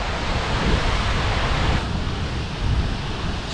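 Seljalandsfoss waterfall in Iceland roars as a steady, dense wash of falling water, loud and close with no pauses throughout.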